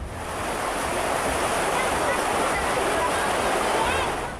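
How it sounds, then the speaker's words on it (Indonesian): Floodwater gushes from a breached levee on the Tuntang River in Demak, pouring across rice fields and villages as a loud, continuous rushing roar with wind-like noise, while a voice speaks over it. "Jebolnya tanggul Sungai Tuntang membuat air mengalir deras, membanjiri persawahan dan permukiman warga."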